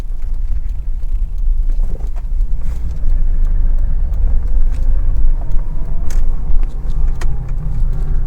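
A 1990 Toyota Supra Turbo with an untouched original intake and exhaust, driving along with a steady low engine and road rumble heard from inside the cabin, with no talk.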